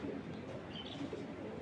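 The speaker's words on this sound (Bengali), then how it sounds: "এটা একটা মাদি কবুতর বড় মাথার।" Low, quiet cooing of a female big-headed Giribaz pigeon, a soft continuous murmur close by with no talk.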